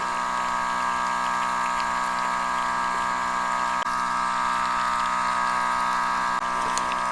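A LOKITHOR AW401 portable 200PSI water sprayer pumps and sprays water with a steady, close motor hum and a continuous hiss, unbroken for several seconds with no talking.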